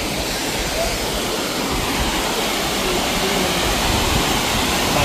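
A waterfall in Oregon roars continuously as a steady, broadband rush of falling water with no break, heard fairly close.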